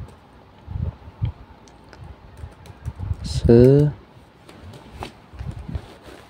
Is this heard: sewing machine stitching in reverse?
no